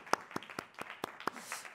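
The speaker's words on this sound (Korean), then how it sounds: "주님께 박수 한번 하십시다." Church congregation applauding during a sermon, heard as a handful of distinct rhythmic claps in a steady beat, fairly faint and spaced evenly, with a soft room wash behind them.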